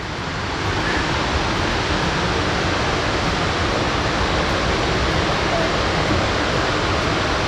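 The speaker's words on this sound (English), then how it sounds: "Just the power of this waterfall as it comes over. And it's so much water." Shannon Falls near Vancouver, Canada, a big waterfall with heavy flow, roars as a dense, steady broadband rush heard from a viewpoint, with no breaks and no clear voices over it.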